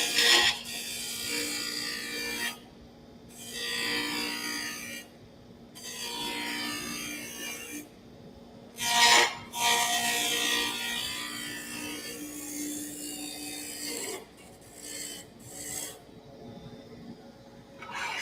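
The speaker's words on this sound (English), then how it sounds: "You can take and just push and get some serious wood removal if you want." A turning tool cuts a wooden rolling pin on a spinning lathe in repeated close, harsh scraping passes separated by short gaps, under a low motor hum.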